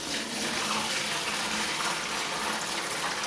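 Fruit mash for a home brew pours through a large colander into a 5-gallon bucket, making a steady, close gushing and splashing rush that runs unbroken for the whole stretch, with no talking.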